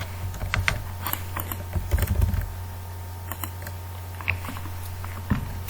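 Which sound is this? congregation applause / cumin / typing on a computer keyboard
typing on a computer keyboard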